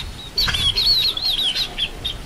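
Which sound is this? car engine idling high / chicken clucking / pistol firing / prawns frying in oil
chicken clucking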